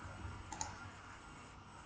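A computer mouse clicking during a Kodu Game Lab tutorial, two faint clicks in quick succession over a quiet room with a steady thin high whine.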